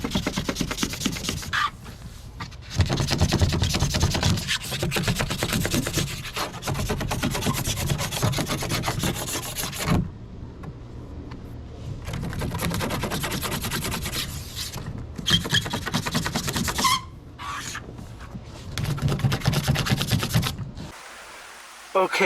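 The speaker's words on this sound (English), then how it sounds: "I like to just rub them back and forth and it just comes right off" Excess material is rubbed back and forth off a car door card, giving bursts of raspy, close scraping that stop and start, with short pauses between strokes.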